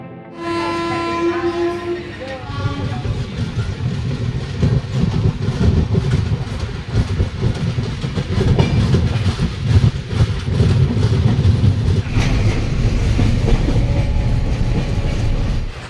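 Samudra Kanya Express crossing the roughly 2.1 km Mahanadi railway river bridge near Cuttack, opening with a horn blast and then a loud, steady rumble and clickety-clack of wheels on the bridge, heard from on board without talk.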